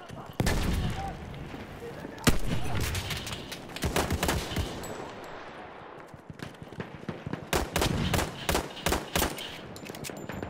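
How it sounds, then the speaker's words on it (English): Rapid machine gun bursts and scattered rifle shots crackle through a Battlefield 1 multiplayer firefight, sharp repeated volleys of varying loudness with a voice talking over parts of the fighting. "Machine gun over there."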